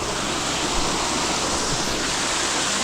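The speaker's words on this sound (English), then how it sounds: "That's about friggin' 60-metre waterfall." Roaring white-noise rush of a roughly 60-metre waterfall on Waiʻomaʻo Stream in Oahu, Hawaii, steady and loud throughout with no break, heard close to the falling water.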